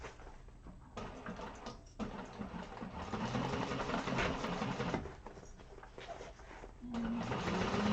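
A sewing machine stitches across a thick vinyl bag in steady bursts, with short pauses where the needle is repositioned. The machine runs close and moderately loud, and a voice talks over part of it.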